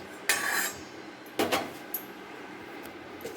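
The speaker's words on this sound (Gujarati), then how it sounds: "આપણે એક કડાઈમાં ત્રણ ચમચી ઘી લઈ લઈશું" A metal spoon clatters against a kadai pan while ghee is added in a home kitchen during laddu making: two distinct metallic clanks about a second apart, then a few faint ticks, with no talking.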